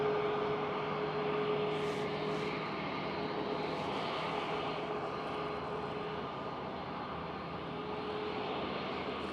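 A KLM Boeing 777 arriving on runway 27 at Schiphol Amsterdam, its engines a broad, distant rumbling roar with a faint steady whine running beneath, holding fairly constant and easing slightly toward the end.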